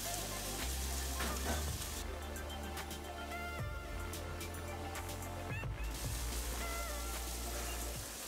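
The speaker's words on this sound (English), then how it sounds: "Add the fish to the pan," Small Black Sea anchovies frying in a pan, a steady, dense sizzle with crackling pops throughout, close and even in loudness.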